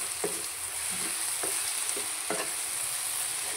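Turmeric being stirred into a drumstick and dried fish curry in a pan, with a constant bright sizzle and a few soft spoon scrapes, close and alone.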